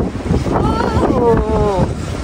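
Strong typhoon-force wind batters the microphone during snowfall in Greenland, a loud continuous roar with gusting buffets and a wavering whistle, while a vehicle idles nearby.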